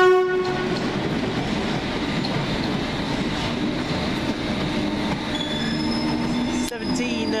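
A Thameslink passenger train, unit 319372, rolls past loudly at Farringdon station, wheels rumbling and clattering on the rails, with high squealing tones and a brief sharp screech near the end.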